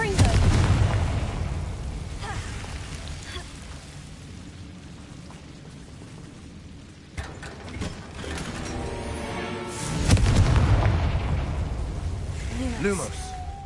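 The Confringo explosive spell cast in the video game Hogwarts Legacy: mechanical, crackling game effects with blasts that swell around the middle and again toward the end, loud and close, continuing throughout.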